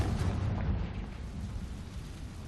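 Spell explosions in the Hogwarts Legacy video game make a continuous, dense, rumbling roar of blasts and debris that stays fairly even throughout with no clear pauses.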